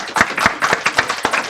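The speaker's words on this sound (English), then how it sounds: "Please give them a big round of applause" Applause from an audience at a panel discussion on U.S.-Korea innovation, heard as a brief, close burst of claps with distinct rhythmic peaks and no talk over it.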